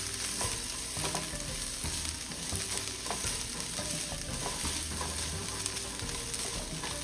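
Dried red chillies sautéing in hot oil in a pan, a steady dense sizzle with occasional scraping stirs, continuous throughout without talk.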